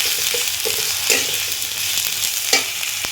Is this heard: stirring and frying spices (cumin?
yes